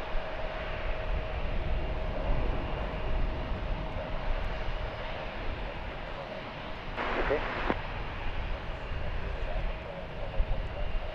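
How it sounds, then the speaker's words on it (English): Narrow-body jet engines rumble at DFW Airport, a steady distant roar that fills the whole stretch, with a brief brighter surge midway. "7 other aircraft, narrow body aircraft,"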